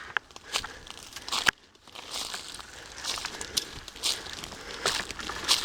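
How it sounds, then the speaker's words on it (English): Footsteps crunch underfoot on an outdoor track, giving a faint, uneven run of crackling steps with a short quiet break, and no one speaks. "as you can see, there's a general crunch underfoot."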